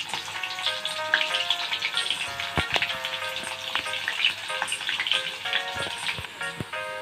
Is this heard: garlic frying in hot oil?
yes